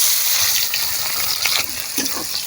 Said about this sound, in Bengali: পেঁয়াজটাকে আগে সুন্দর লাল লাল করে ভাজতে নেব।